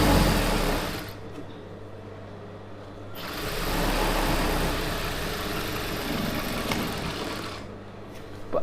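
An Usha sewing machine stitching patiala pants gives a loud, close, continuous motor whir with rapid needle chatter, easing briefly early on before running steadily again, with no talking.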